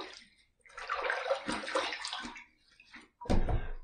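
Warm water runs from a tap into a bathroom sink before a razor shave, a steady hissing stream that stops briefly and then restarts with a louder gush, close by and alone.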